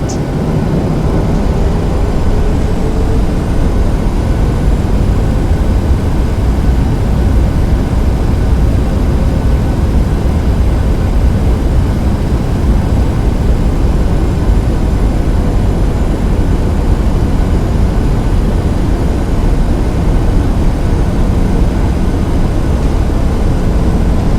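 Southwest airliner in Microsoft Flight Simulator X taxiing toward runway 17 right at Lubbock, a steady loud low jet engine rumble and whine holding constant throughout with no talking.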